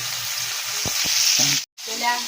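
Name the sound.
mixing red sweet potato tops into dish in pan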